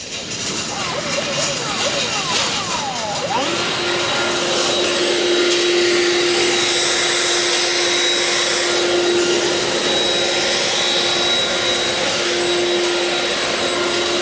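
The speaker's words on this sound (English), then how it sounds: "Let's fetch the leaf blower right quick and blow the area clear." A loud, steady whine of a leaf blower motor starts up after a brief rustle and runs continuously, high and roaring, with occasional tonal shifts.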